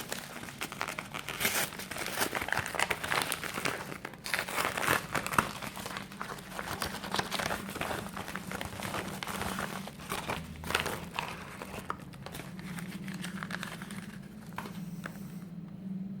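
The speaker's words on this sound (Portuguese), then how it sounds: "vamos fazer hoje mais um unboxing proveniente da Inglaterra" Plastic packaging crinkles and crackles continuously while a parcel sent from England is unwrapped, holding a card deck in a box, close and fairly steady with bursts of rustling and tearing, no talking.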